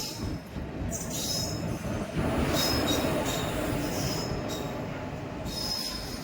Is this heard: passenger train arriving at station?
yes